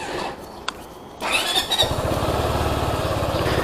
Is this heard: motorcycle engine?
yes